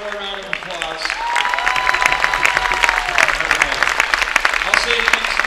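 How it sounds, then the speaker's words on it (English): Audience at a St. Peters Columbus event giving a group a round of applause, clapping and some cheering building up after a brief moment of voices and rising to a full, lively ovation. "let's give this group one more round of applause"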